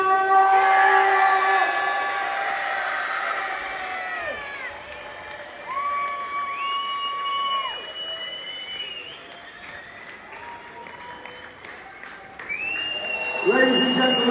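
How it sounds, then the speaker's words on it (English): An arena crowd at a SuperEnduro round in Newcastle cheers, whoops and applauds over a loud, reverberant announcer, with the roar swelling and fading behind the amplified voice and surging again at the end. "I want you to scream and shout as loudly as you possibly can for Mr. Billy Bolt!"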